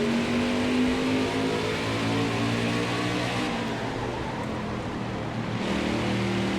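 Race truck engine droning steadily in a racing video game at Martinsville, a loud, dense, continuous roar with one rising tone early on, no talk over it.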